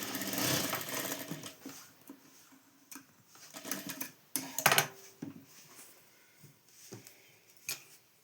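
Domestic sewing machine stitching a square neckline on fabric, with short irregular bursts of rapid ticking stitches broken by pauses and handling clicks, close and fairly quiet.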